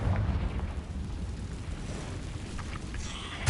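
The Confringo blasting spell explodes in the video game Hogwarts Legacy: a loud, deep boom with rumbling low-end debris that holds throughout and ends in a sharp crackling burst.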